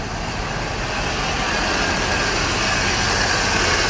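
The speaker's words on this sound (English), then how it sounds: "shut down the engine" A car engine idles steadily at close range, a continuous broadband rumble with an even, unchanging level throughout and no talk over it.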